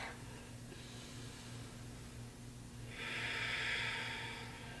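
Deep breathing during wall stretches, a soft, close inhale and exhale over a low steady hum, the out-breath swelling into a breathy rush near the end.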